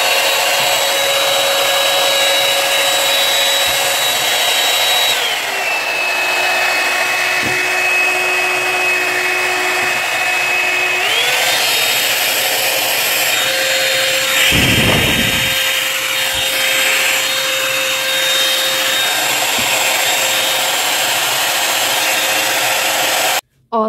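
Revlon hot air brush dryer switched on and running, a loud steady whooshing whine that shifts pitch twice as settings change, with a brief handling knock partway through and no talk.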